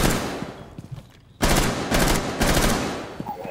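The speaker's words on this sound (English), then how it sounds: "But what are you shooting" Gunfire in the tactical shooter Rainbow Six Siege: loud, close bursts of rapid automatic fire, a brief lull, then sustained shooting in several bursts, with no voices over it.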